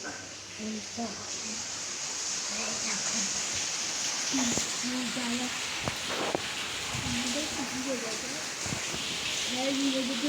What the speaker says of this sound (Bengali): আর এখানে আমাদের বৃষ্টি